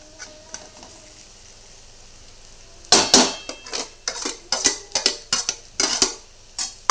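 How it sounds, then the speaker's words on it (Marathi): Potato pieces go into hot oil in a pan for sabudana khichdi, a soft sizzle under a rapid run of close metallic scraping and clinking as the spatula stirs, starting abruptly partway through. "आता हे आपलं चांगलं तेल हे बाजूला झालेलं आहे चांगलं परतलेलं आहे त्यात बटाटा टाकायचं"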